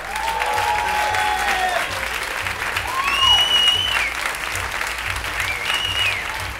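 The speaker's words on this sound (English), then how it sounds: "get a big round of applause together for Cliff the Geezer!" Comedy club audience applauding a comedian at a bootcamp show, a dense sustained wash of clapping close and loud for several seconds, with a few whoops and cheers rising above it.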